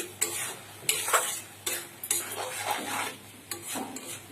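Fish sizzles in a pan while a utensil stirs and scrapes in irregular strokes, with short clanks against the metal between steady frying hiss.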